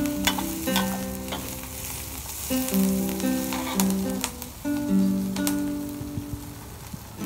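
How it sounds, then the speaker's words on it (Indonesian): Squid and green chili stir-fry in a hot pan, a dense sizzle under repeated scraping stirs, with a steady clatter of utensil against the pan's metal throughout. "Inilah guys cara memasak cumi cabai hijau"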